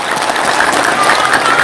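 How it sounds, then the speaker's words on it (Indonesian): An audience at a political rally claps in a sustained burst of applause, dense and fairly loud throughout, with crowd voices mixed in beneath the clapping. "Boleh tepuk tangan dulu semuanya di sini."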